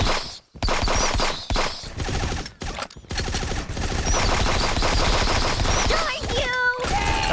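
Dense automatic gunfire from Fallout 76 rattles loud and close in sustained volleys with short gaps, other game effects chirping near the end.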